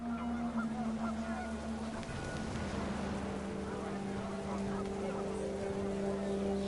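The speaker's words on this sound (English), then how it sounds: "The wind picked up and panicked geese appeared and quickly went." Panicked geese honk in the video game What Remains of Edith Finch, their calls rising over a steady low drone and blending with a rushing, water-like background.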